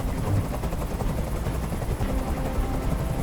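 Steady, loud helicopter rotor drone with constant thumping in the video game Detroit: Become Human, heard alone with no talking.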